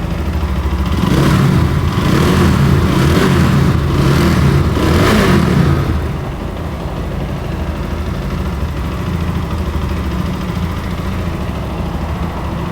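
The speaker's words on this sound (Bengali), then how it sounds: "সো বন্ধুরা, বাইকটা কিন্তু স্টার্ট করা হয়েছে আর আপনার সাউন্ডটা শুনতে পাচ্ছেন আশা করি।" A GPX Demon GR165 RR motorcycle engine, a used bike in good condition, revs loudly in a few rising pulses, then settles into a steady, smooth idle, heard up close and alone.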